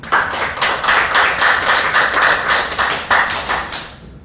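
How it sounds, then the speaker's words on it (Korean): Audience clapping at an indoor talk, a steady dense round of applause with no voices over it, holding for about four seconds before it fades out. "박수 한번 쳐주시죠."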